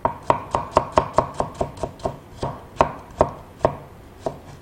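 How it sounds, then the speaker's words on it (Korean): A knife chops a carrot into thin strips on a cutting board, about fourteen sharp, evenly spaced cuts in a steady rhythm, close and clear with no voices. "당근 편 썰어서 길면 6cm 잘라주시고"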